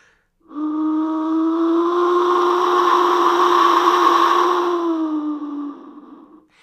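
A single long whistle note sustains for about five seconds, breathy and slightly wavering, with a low moaning, groaning quality, alone.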